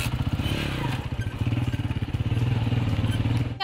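A motorcycle ridden at a women's riding training course in Lahore, its engine putting steadily and close by with a rough, pulsing rhythm that rises and falls slightly over a few seconds.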